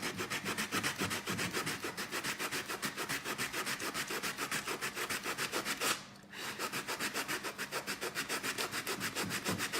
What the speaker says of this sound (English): So I'm going to sand that, and then we can get on with the painting techniques.